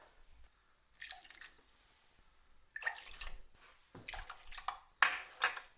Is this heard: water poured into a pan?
yes